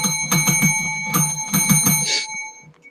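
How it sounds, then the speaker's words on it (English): A bell rung repeatedly in quick bursts of bright, ringing strikes close by, with two clusters of rapid hits and a fading ring at the end. "I think he's ringing the bell"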